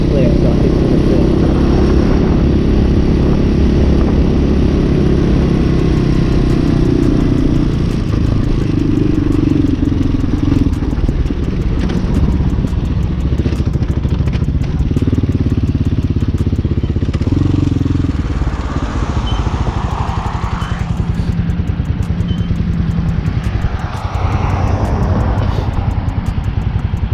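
A Hawk 250cc dual sport motorcycle rides through city streets, its engine loud and close with a continuous drone that rises and falls as it shifts and changes speed, mixed with wind and traffic noise.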